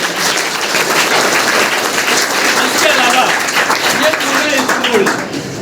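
A school audience at a road safety awareness programme bursts into loud, sustained clapping that fills the hall, while someone speaks over it.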